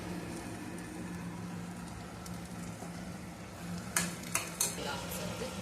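Ground masala paste is stirred into a pot of mixed vegetable sagu, a soft continuous scraping and bubbling followed by a few sharp metallic taps of the spoon against the pot near the end.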